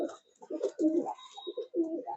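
Pigeons coo repeatedly in a loft of racing birds, soft rounded coos in uneven bursts with short pauses, fairly close and moderately loud.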